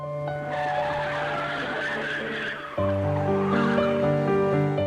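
A car braking hard and pulling to the side of the road, tires skidding in a long, loud, sustained screech that shifts pitch partway through and never pauses.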